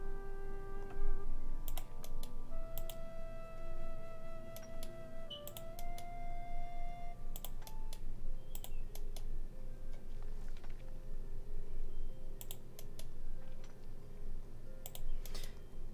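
Computer keyboard typing during an online RuneScape session, a steady run of quick clicking keystrokes under a low background hum, with a few brighter clicks and tones scattered throughout.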